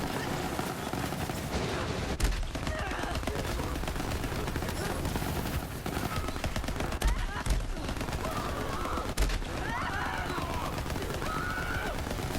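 Rapid gunfire from the Rebound weapon in Borderlands 3, its bullets ricocheting, sounds as continuous bursts of shots with a few louder cracks, under a voice talking.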